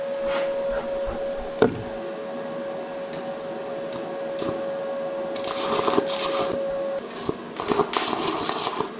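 Crackling, sputtering bursts of stick-welding arc as quick tacks are laid on aluminum sheet metal, two loud rough stretches near the end over a steady hum, with a sharp click early on.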